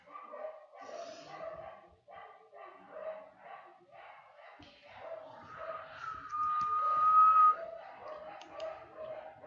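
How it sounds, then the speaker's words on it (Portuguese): Repeated barking from dogs in the street in a steady series, fairly close, with a brief high-pitched tone partway through; no talking. "Tem 1 milhão de cachorros na rua."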